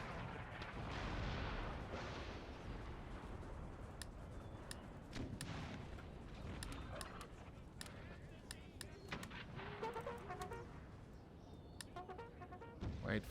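Howitzer artillery fire in the Empire Total War video game, a dense rumbling barrage with sharp booming shots scattered over continuous battle noise.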